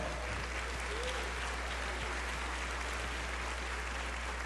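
A church congregation at a Sunday service breaks into applause. A dense, steady wash of many hands clapping fills the room without a break, with faint voices under it.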